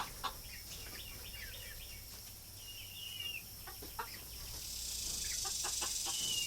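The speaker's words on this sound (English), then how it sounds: "He's over there making all kind of noise." A rooster among backyard chickens makes scattered clucks and short calls, fairly faint and a little distant, over a steady background hiss that grows louder toward the end.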